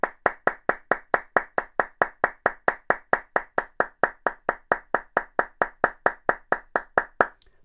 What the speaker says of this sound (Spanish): hagáis muchas palmas e intentar que siempre suenen